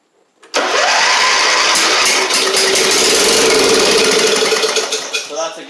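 The opposed-twin Briggs engine on an MTD riding mower, which leaks oil, cranks and catches after a short silence, then roars loud and steady as it runs and eases off slightly near the end.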